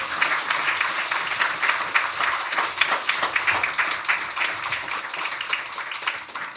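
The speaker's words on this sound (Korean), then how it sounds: "나오실 때 할렐루야 박수로 환영하겠습니다" Church congregation at a revival service clapping in welcome, a dense, steady wash of applause that stays fairly loud and even throughout, with no one speaking over it.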